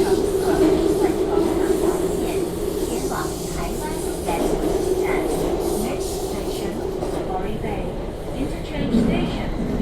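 An MTR train rolls over a crossover track near Quarry Bay, a steady loud rumble with faint rhythmic wheel clatter throughout, and a voice speaking over it.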